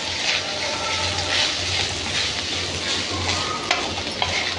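Grated coconut stir-fried with cashews and peanuts in a tempering for coconut rice, giving a steady close sizzle with soft scraping stir strokes and a few sharper clicks near the end.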